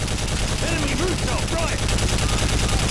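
Rapid, continuous automatic turret gunfire in Call of Duty Modern Warfare 3, a dense, loud, steady stream of shots lasting the whole moment, with a voice talking over it.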